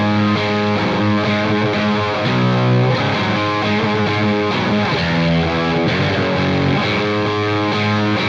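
PRS Silver Sky SE electric guitar played through heavy distortion, with loud, sustained chords and riffs that ring continuously and close up, with no voices.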